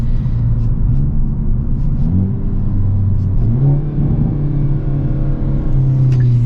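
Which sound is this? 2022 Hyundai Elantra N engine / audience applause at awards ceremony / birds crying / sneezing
2022 Hyundai Elantra N engine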